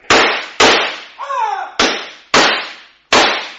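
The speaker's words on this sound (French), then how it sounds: "Tirez, Watson, tirez!" Gunshots ring out in a French radio drama, five sharp loud cracks in an uneven rhythm, each with a decaying echo, and a brief whistling, sliding tone between the second and third shot.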